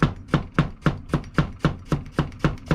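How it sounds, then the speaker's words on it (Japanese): A knife slices a carrot into thin half-moon pieces on a cutting board, eleven crisp, evenly spaced chops with a woody knock, close and clear with no talk. "半月のような形に切るから半月切りって言います。"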